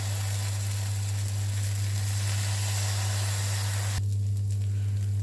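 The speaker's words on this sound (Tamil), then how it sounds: "இப்போ இந்த மாவை இதில் அப்ளை பண்ணலாம். தோசை ஊற்றிக்கலாம்." Oats dosa batter sizzles steadily on a hot dosa griddle, a broad hiss over a strong low hum that cuts off sharply near the end.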